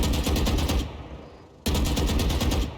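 Rapid automatic gunfire from the shooting game Valorant, a loud close burst of evenly spaced shots that cuts out briefly and then resumes at the same pace.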